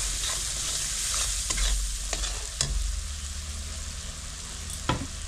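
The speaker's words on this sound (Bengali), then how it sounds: "এবার এটাকে ভালো করে এভাবে নাড়তে হবে। বুঝছো, একদম পেঁয়াজটা একদম গলে এসছে" Softened onions sizzle in a pan over low heat while a spatula stirs them, the steady frying hiss broken by several sharp scrapes and taps of utensil against the pan.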